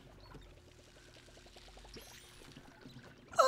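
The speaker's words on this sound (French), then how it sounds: "Attention, arrosage en cours." Water pours steadily from a watering can onto plants in the video game Palia, a soft continuous trickle with light game chimes and a louder cue at the end.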